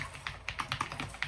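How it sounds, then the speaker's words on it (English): Fast typing on a mechanical keyboard, a steady run of crisp, close keystrokes with slightly uneven rhythm and no voices. "if I'm talking realistically here, I love this keyboard"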